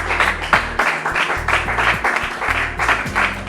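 A church congregation applauding, with steady, dense clapping from many hands that stays loud and even across the whole moment.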